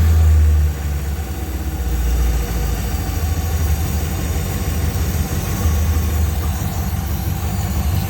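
A Rover V8 car engine with twin SU carburettors idles steadily nearby, a low, even rumble with a slight rise at the start, then a smooth continuous drone.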